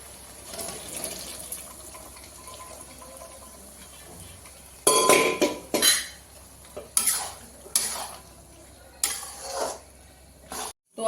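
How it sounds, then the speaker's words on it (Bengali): Boiled chickpeas tipped into a cooking pan in a home kitchen, giving a run of clattering, scraping bursts of metal and spoon against the pan after a quiet stretch with a faint steady hum. "সিদ্ধ করা ছোলাগুলো দিয়ে দেব।"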